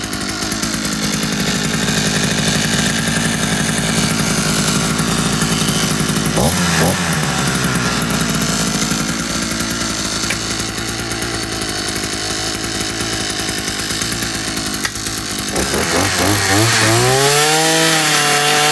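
A gas-powered Prorun earth auger engine runs loud and steady outdoors, a continuous rough two-stroke drone with a brief dip in pitch partway through and a revving surge near the end.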